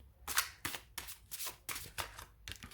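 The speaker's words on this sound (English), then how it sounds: "the shuffling is really quite easy. It's quite smooth." A deck of Crow Tattoo playing cards is shuffled up close, with a series of quick riffling bursts in an uneven rhythm, crisp and fairly soft, with no talk.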